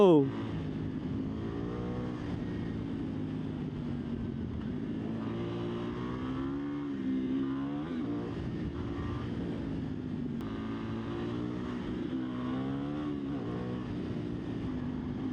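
A KTM Duke 990 motorcycle engine runs with a steady low, throbbing drone that swells slightly at moments, heard nearby under someone talking throughout.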